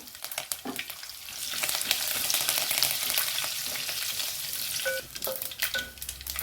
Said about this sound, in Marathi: लसूण थोडा खरपूस भाजून घाला